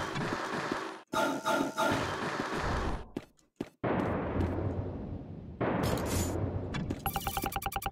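Weapon fire and explosions in the platformer video game A.R.E.S. Extinction Agenda EX as weak spots are shot and break apart, with loud bursts, rapid repeated shots and abrupt cuts between game sounds.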